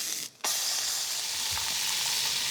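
Loud, steady sizzling as a tortilla hits a hot, oily griddle for brisket tacos, preceded by a brief quiet gap, with a crackling hiss continuing throughout.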